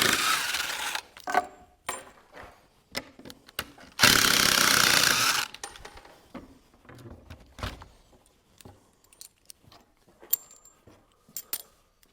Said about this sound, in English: get our leg muscles cut out over at the bandsaw